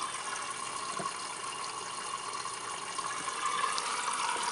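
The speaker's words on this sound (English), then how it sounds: "We're getting some hot water." Hot water runs steadily from a tap while washing biodiesel, a continuous even hiss of flowing water with no talking.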